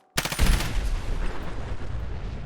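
Explosive barrels in Fallout 4 are shot and blow up in one loud, close blast that opens with a rapid crackle of bursts, then fades into a long, rumbling roar and debris noise.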